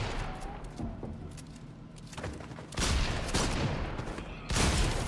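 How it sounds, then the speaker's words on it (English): Gunfire in the Fortnite video game: a quiet stretch of game noise, then two loud bursts of shots a couple of seconds apart. "Kimmy, can you shoot him back?"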